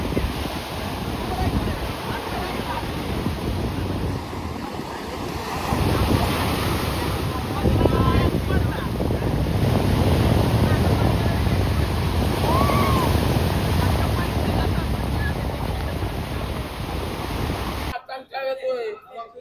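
Ocean surf rolls onto the beach at Kanyakumari, a continuous loud wash of breaking waves mixed with wind buffeting the microphone.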